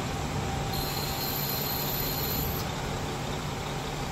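A JR Hokkaido Nemuro Main Line train pulls into Kanayama station with a steady low rumble of wheels and a long, thin high squeal above it.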